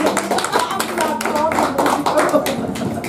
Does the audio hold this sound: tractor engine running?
no